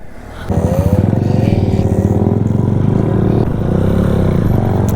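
A stock Bajaj Pulsar NS 200 motorcycle engine revs up loudly and close during wheelie practice, holding a steady throbbing drone that dips briefly before the throttle opens again.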